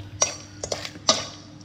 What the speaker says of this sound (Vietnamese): Đây mình sẽ trộn đều cái phần sườn này lên